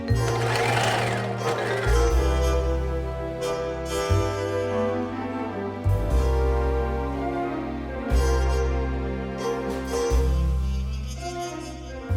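A sewing machine stitches a knit pencil skirt in long, steady runs of close, loud mechanical hum, broken by brief stops and restarts, with no talk.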